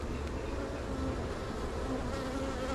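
A dense, steady drone of many honey bees buzzing around a heavy hive during an inspection, with a close, continuous hum and no voices.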